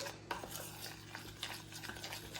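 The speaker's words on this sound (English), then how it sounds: "So we just need to mix up our icing." Spoon stirring icing in a bowl for homemade Pop Tarts, quiet scraping and tapping strokes in an uneven rhythm, close and faint with no talking.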